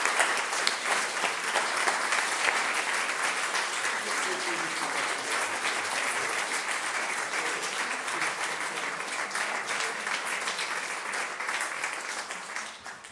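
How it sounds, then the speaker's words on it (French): An audience at a public session of an arts academy's class claps for prize winner Madame Wachtelaar, a long, even round of applause that holds steady and slowly thins toward the end. "on peut applaudir"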